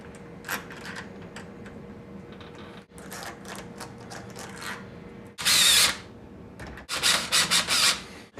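A power drill drives screws into a doorknob plate, with short whirring bursts and rubbing scrapes early on, then two louder, longer grinding runs near the end, close by, with no talking.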